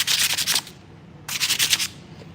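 Two bursts of hand sanding with 400 grit sandpaper on a Tesla Model 3 brake part, broadband scratchy strokes, close and fairly loud, separated by a brief quiet pause.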